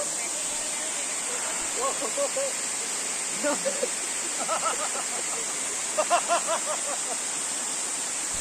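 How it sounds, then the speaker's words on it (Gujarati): A waterfall in the Dharampur forest gives a steady, broad rushing hiss that runs unbroken through the whole stretch, with people talking over it at intervals. "બસ ધોધ નજીક જ છે"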